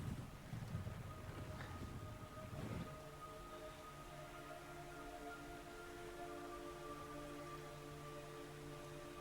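Soft, steady rain patter in the video game Metal Gear Solid 3 Subsistence, with low rumbling and a few faint sustained tones, fairly quiet throughout with a slightly louder burst near the start.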